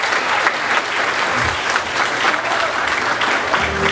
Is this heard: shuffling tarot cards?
no